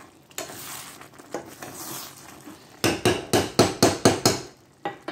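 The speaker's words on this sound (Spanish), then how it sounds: "miren aquí ya se está secando el arroz" Coconut rice simmers down and dries in a pot for a Honduran dish, with a soft sizzling bed followed by a rapid run of about eight loud, close spoon-on-pot scraping stirs.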